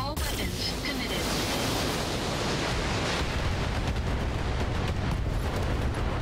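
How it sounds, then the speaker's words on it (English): Mech weapons firing in the BattleTech video game, a dense continuous roar of explosive blasts and rumbling bursts filling the whole stretch without a break. "Fire. All weapons committed."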